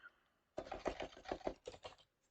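Fingers tap a computer keyboard in a quick, close run of about a dozen keystrokes after a short silence, clear and alone.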